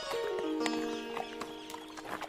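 A horse's hooves clip-clop in a quick, light series of taps as a story sound effect, set against a faint sustained musical tone.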